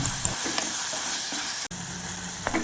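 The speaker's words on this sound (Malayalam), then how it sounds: "അതും കൂടി ഇതിലേക്കിട്ട് നമുക്കൊന്ന് നന്നായിട്ട് വഴറ്റിയെടുക്കണം." Onion and tomato sauté in a pan for Kerala-style dal curry, a steady close sizzle broken by stirring scrapes, with one sharp clack partway through and no talking.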